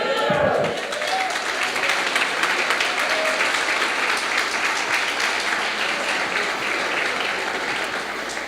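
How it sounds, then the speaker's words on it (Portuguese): A congregation at an evangelical worship service applauds in a long, sustained wave of clapping that opens with a brief voice, then stays dense and even throughout, near and full. "Alguém pode dar um glória a Deus e aplaudir o Senhor?"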